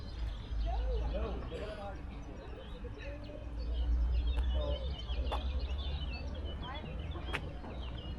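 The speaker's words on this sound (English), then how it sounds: "Birds singing in the background." Scattered birdsong drifts through quiet Dordogne Valley countryside in southwest France, thin chirps and warbles at a distance beneath a low rumble of wind, with a voice talking briefly.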